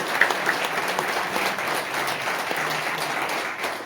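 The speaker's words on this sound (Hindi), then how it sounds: "उनके लिए एक बार बहुत तालियां" An audience at a direct-selling seminar applauds with dense, steady clapping that carries on for a few seconds at moderate volume.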